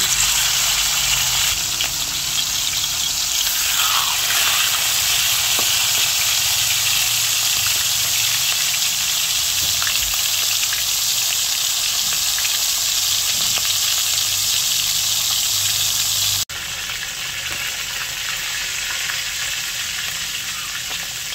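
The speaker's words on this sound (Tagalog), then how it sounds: "Ipiprito ko na po yung isda." Fish frying in hot oil over a home stove during heavy rain and wind, a steady loud sizzle and crackle that runs throughout and drops slightly in level toward the end.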